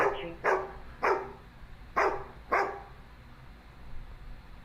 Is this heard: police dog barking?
yes